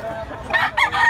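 A Popeye Grey and Kelso Roundhead gamecock stag crows close by, a single loud, strained call rising in two bursts with light background noise and no talk.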